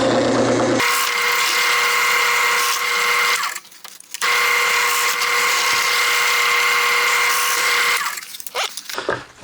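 Power tool drilling holes through wood for knob knurls, a loud whine with a brief pause partway through before it resumes, then tapering off at the end.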